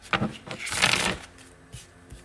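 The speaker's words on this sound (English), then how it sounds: "Let me get your energies in here and shuffle real quick." Tarot or oracle cards are shuffled up close in a quick run of brief riffling and papery slaps, with one longer flurry in the middle, and a few soft taps after it.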